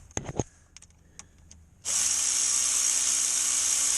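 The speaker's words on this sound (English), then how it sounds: "Get yourself a power ratchet, believe me." A few metallic clinks and taps of tools on a Chevy Impala transmission pan give way to a power ratchet whirring steadily as it spins out the pan bolts, loud and close.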